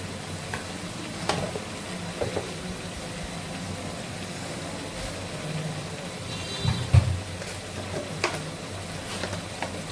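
Garlic and ginger paste frying in a pan, giving a steady, close sizzle with occasional louder stirring clatters and scrapes and no voices.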